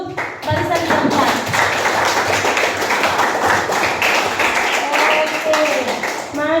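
Students applauding in a classroom, with many hands clapping together in a steady, dense patter that lasts several seconds, and a voice faintly audible underneath.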